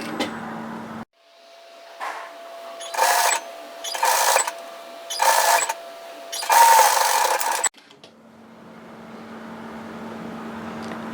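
A sewing machine stitches a seam on a knit teddy jacket, running in four or five short loud bursts with brief pauses between them, close up, with no talking.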